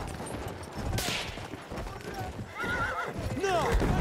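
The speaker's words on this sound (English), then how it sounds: "I'm gonna ride this horse all the way to that D." A horse in the video game Battlefield Online gallops with rapid clip-clop hoofbeats and lets out loud neighs and whinnies, while gunfire crackles in the background and a voice talks over it.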